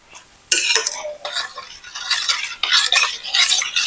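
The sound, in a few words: stirring salt and pepper mixture for pani puri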